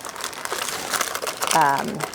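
A slab of homemade marshmallow is peeled off parchment paper on a cutting board, giving close, soft crinkling and crackling of paper while a person talks over it.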